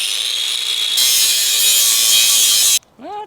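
A power saw cuts a 1-inch metal bar to length, a loud, steady harsh whine that shifts slightly in pitch and then cuts off abruptly, followed by a brief tonal sound.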